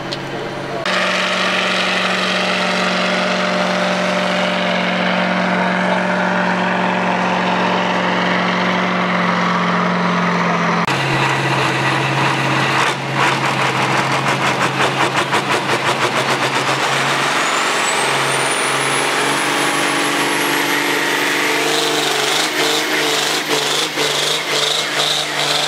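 A Cockshutt tractor engine labours at a festival tractor pull, its loud droning note shifting pitch as the revs rise and fall mid-run, with a voice speaking over it.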